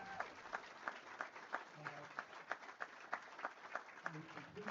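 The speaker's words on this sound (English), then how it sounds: "let's give one more round of applause to everybody here for the Virginia Golf Hall of Fame class of" Audience applause at the Virginia Golf Hall of Fame class of 2023 induction ceremony, fairly faint clapping with distinct claps standing out, with some voices underneath.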